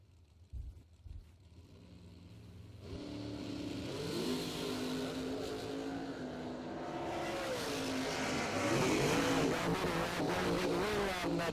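A dragster engine at a bracket drag race idling and then building into a sustained rising roar, fairly distant at first and growing louder, with a few knocks at the start and no talk.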